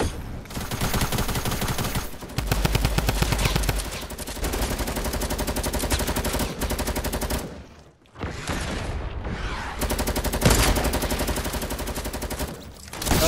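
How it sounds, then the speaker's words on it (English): Rapid automatic gunfire in a shooter game, dense rattling bursts sustained for long stretches with a short break midway, loud and close. "This guy's shooting right here."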